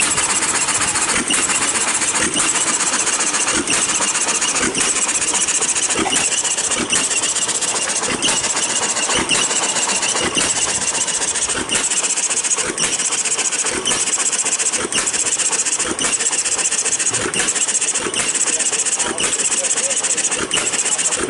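An old hit 'n miss engine with overhead valves powering ice cream churns at an Easter egg hunt, chugging loud and close with a steady, regular beat of firing strokes throughout.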